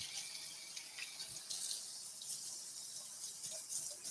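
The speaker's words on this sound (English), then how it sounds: "Rinse off our knife." Steady running tap water pours into a kitchen sink while a knife is rinsed underneath, a continuous soft hiss of flowing water throughout with no talk.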